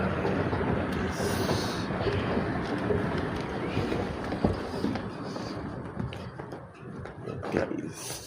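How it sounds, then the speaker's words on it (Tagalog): Inside a moving Riyadh metro train, a continuous low rumble and rattle carries on throughout, with faint voices here and there underneath. "Sasakay kami ng Saudi train."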